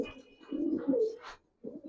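Old-breed pigeons, including giribaz-type birds, coo in low throaty bursts close by, two rolling phrases with a short pause between, and no talking.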